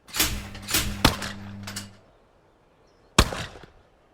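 Shotguns firing in a clay-shooting round of the London 2012 Olympic video game, several sharp cracks in quick succession, then a brief quiet and one more loud report with a short tail.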